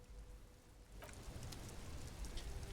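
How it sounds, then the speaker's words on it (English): Steady rain falls in the video game Disco Elysium, a soft continuous patter with scattered drops on surfaces, faint and unbroken throughout with no one talking. "This rain will not let up anytime soon."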